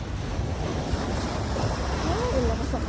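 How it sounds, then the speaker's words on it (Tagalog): Sea waves washing onto the dolomite-sand shore of Manila Bay after a typhoon, a steady broad surf wash with wind buffeting the microphone throughout, no clear speech. "Ito yung ating dagat."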